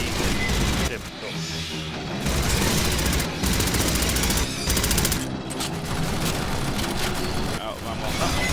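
Sustained rapid gunfire from the video game Aliens Fireteam Elite, loud automatic bursts running almost continuously with brief gaps, dense and close, with heavy booming low end throughout.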